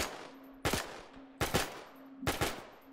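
Three bursts of machine-gun fire from a US .30 cal machine gun in an ARMA 3 WW2 mod beach-landing scenario, each short burst loud and sharp, spaced about a second apart over a low steady hum.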